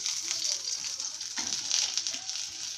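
Ginger and tamarind stirred in a frying pan, a soft steady sizzle with a few brief scrapes of a spoon, close but quiet, with no talking.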